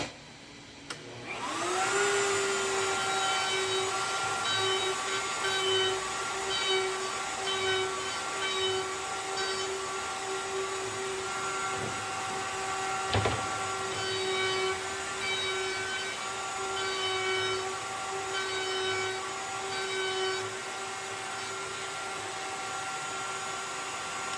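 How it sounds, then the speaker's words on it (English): A router trims foam insulation for an X-Treme bait tank, giving a steady, loud motor whine with hissing airflow that runs continuously for the whole stretch, close by and with no talking. "So then we'll bring it to the router and we're going to trim it up."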